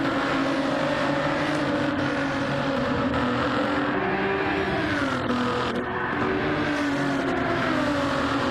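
Race cars head out onto the track for qualifying, engines droning steadily and loud with rising and falling revs as several cars pull away together.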